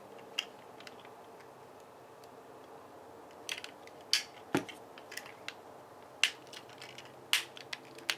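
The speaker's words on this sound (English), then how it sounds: "It's clicking nice and very nicely. A lot more clicks." Replacement ratchet hip joint on a Transformers Menasor toy figure clicking as it is moved, a dozen or so sharp clicks in irregular bursts, close and crisp over a quiet background.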